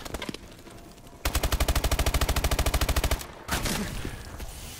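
Automatic gunfire from the Call of Duty: Advanced Warfare video game, a loud close burst of about two seconds of rapid, evenly spaced shots, followed by another shorter burst and scattered single shots.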